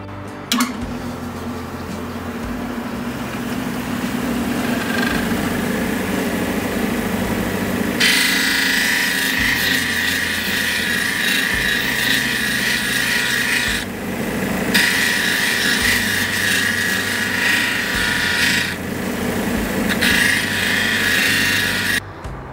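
Kingsley North 8-inch cabbing machine grinding a Mexican agate on a 600-grit wheel, a continuous close hum with a gritty hiss that swells and cuts out several times as the stone is pressed and lifted, no talk.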